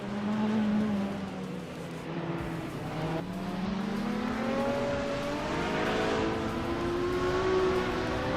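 Race cars, including a classic 1978 Ferrari 512 BB, roar through a video game race, their engines droning and climbing in pitch as they rev and shift up, loud and close with overlapping tones.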